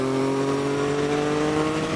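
Big motorcycles ride through curves on a Swiss mountain road toward Livigno, their engines a steady, close, continuous drone with even tones that hold throughout, and no talk.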